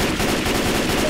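Gunfire in the zombie shooter Left 4 Dead 2: a loud, close, rapid burst of shots that runs unbroken through the whole moment.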